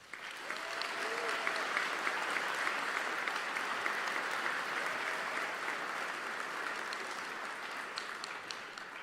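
A commencement audience at UNC's School of Information and Library Science applauds to welcome the speaker, sustained loud clapping from a large crowd that rises quickly, holds steady and begins tapering near the end.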